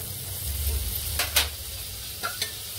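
A spoonful of butter hitting a hot kadhai, a soft steady sizzle with a few sharp crackles and stirring clicks, heard alone without talk.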